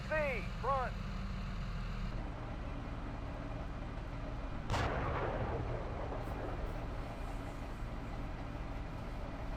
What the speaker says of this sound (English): My platoon is firing.